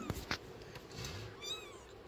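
A cat gives a single drawn-out meow near the end, after a few soft knocks and rustles. It is fairly faint, as if heard in a home.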